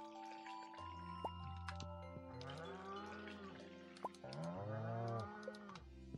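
Cattle lowing on a farm in the Stardew Valley video game, several drawn-out moos overlapping one another over steady game music and small dripping effects, clear and close.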